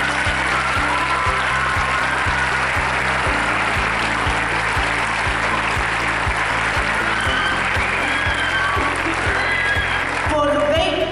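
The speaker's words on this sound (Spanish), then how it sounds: "Fuerte el aplauso para ellos." An anniversary ceremony audience at a school claps loudly and continuously, a dense wash of applause running the whole time while steady rhythmic music with a thumping beat plays underneath.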